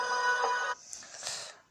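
A phone ringtone plays briefly and faintly, a tonal melody lasting under a second before fading into softer chiming tones.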